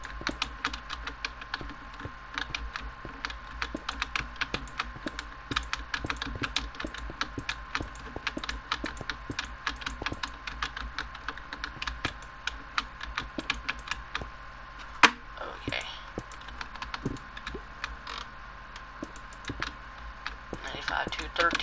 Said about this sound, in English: the keyboard clicks are so freaking loud